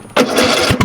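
A small farm engine with the choke on cranks and catches briefly, a loud close burst followed by a couple of sputters.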